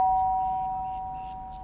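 A front doorbell rings in a radio drama sound effect: a clear electronic ding with steady sustained tones that fade slowly, alone and fairly quiet.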